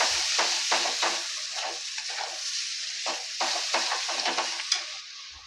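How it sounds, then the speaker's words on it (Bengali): Chicken curry masala with chilli and salt is stir-fried in a pan, a bright, steady sizzle pulsing with repeated rhythmic stirring scrapes, close and loud, with one clink near the end. "লবণ দিয়ে একটু ভালো করে কষিয়ে নেব।"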